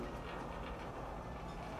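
Steady low rumble of a train pulling into a spaceport in a video game, a continuous rolling drone with faint rail clatter, moderately loud and unbroken throughout.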